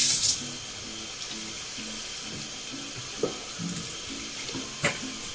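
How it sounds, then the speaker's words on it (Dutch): Water trickles steadily from a tap into a bowl of cornstarch, a soft continuous pour with a brief splash at the start and a couple of small clinks later. "Doe ik een beetje water bij."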